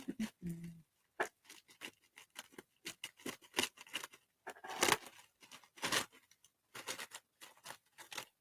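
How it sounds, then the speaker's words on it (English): Scissors cut open a Temu haul package, giving a series of soft, close snips and crinkly ticks with short pauses between them, faint overall. "let's cut this open"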